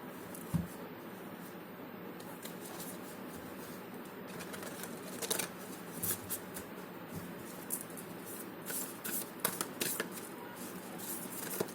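Tarot cards shuffled by hand for a reading, a steady soft riffling and rustling with small sharp flicks and taps running throughout, fairly quiet and with no talk.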